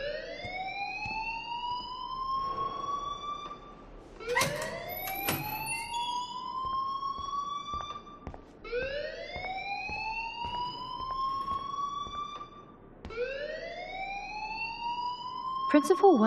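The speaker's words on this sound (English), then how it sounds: "please turn off that alarm since that's your job." A repeating alarm wails in the video game Life Is Strange, with four rising electronic siren sweeps at a steady rhythm, loud and up front, and sharp clicks between them.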